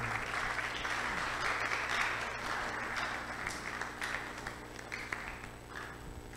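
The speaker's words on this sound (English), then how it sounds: "We can do better. Let's clap for them." Audience applause for the panelists at a panel event, a sustained round of clapping from a crowd that holds steady and thins slightly toward the end.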